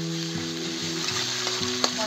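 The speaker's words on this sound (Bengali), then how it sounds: "এই মশলাটা ভালো করে কষাই নেবো" A paste of ground ginger, coriander and cumin fries in a pan for a broccoli, potato and pea curry, with a steady loud sizzle and occasional stirring scrapes throughout, and no voices.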